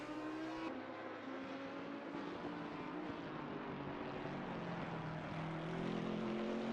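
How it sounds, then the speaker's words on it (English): An Alpine race car with a 4-cylinder turbocharged engine drives at a rookie championship round at Snetterton, giving a steady, fairly distant engine drone with shifting tones that swells slightly toward the end. "You got to love the power of that 4-cylinder turbocharged engine."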